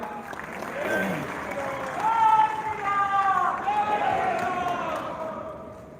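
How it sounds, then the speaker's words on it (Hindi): Audience at a Lohri and Makar Sankranti gathering chanting Shri Ram together with applause: sustained crowd voices and clapping that swell and hold steady across the whole stretch, fairly loud and continuous. "श्री राम का उद्घोष और तालियां।"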